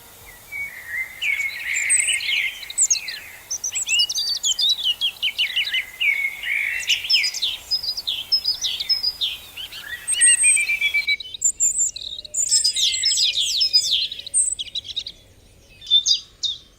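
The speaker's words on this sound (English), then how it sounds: "March and April are also the months when the birds start singing" Several birds sing and chirp continuously in bright, overlapping trills and whistles, fairly close, over a quiet background, in a New Forest woodland in spring.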